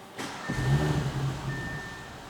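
A 2020 Audi S5 Sportback engine cranks and fires, rising into a steady, throaty idle with a faint intermittent chime over it, close and fairly loud.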